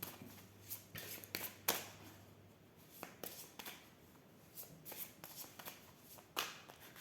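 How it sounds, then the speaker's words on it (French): Oracle cards shuffled by hand, close and quiet, with repeated crisp riffling flutters and soft card slaps in an uneven rhythm and brief pauses between bursts. "Alors on va voir en mélangeant l'oracle."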